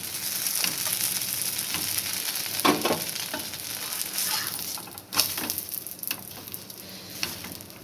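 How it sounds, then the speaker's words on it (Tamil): An egg masala dosa fries in oil on a pan with a continuous close sizzle, broken by a few clinks and scrapes of a spatula, and no voices. "முட்டை மசால் தோசை இது கொஞ்சம் எண்ணெய் விட்டுக்கலாம்"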